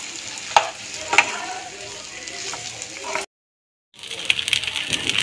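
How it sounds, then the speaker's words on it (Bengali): Dalia (broken wheat) with vegetables is stirred and scraped in a frying pan, a steady sizzle with sharp spoon clinks near the start, broken by a brief silence before the sizzling and scraping resume. "এবার আমি ভালো করে এটাকে নাড়িয়ে নেব।"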